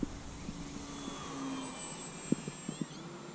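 Skynetic Shrike sport glider model airplane with its electric motor powering back up in flight on an early morning outing, a thin steady whine held faintly at a distance, with a few soft knocks near the end.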